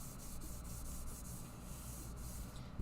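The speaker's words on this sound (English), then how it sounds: "You can get your little rubbing tool" A small rubbing tool burnishing a rub-on transfer onto a surface, a steady dry scratchy rubbing with quick repeated strokes, close and quiet, with no one talking.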